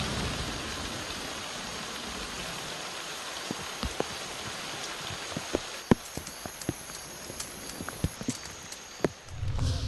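Steady rain falling in a jungle forest at Cuc Phuong, a dense continuous hiss with scattered sharp drips and taps, heavier toward the end.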